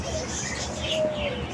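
Pigeons and doves coo softly among other chirping birds, a steady layered backdrop of calls close by at a bird seller's place in Antipolo.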